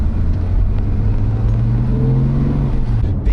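A Porsche GT3 4.0 with a manual gearbox pulls away, its engine a loud, close, steady rumble with a tone that climbs gradually as it gets under way. No one speaks.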